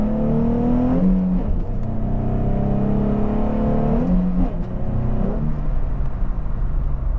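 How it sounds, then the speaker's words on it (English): Nissan 350Z pulling hard in second gear with a Bell Raceworks diff brace fitted, the engine note climbing steadily, a brief dip at a shift or lift around four seconds, then rising again, loud from inside the cabin. "Do a second gear pull."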